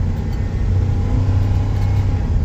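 1990s gas Dodge truck engine running under acceleration, a continuous close low rumble that swells slightly, with no voices.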